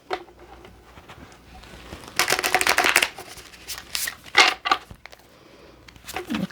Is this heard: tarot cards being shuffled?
yes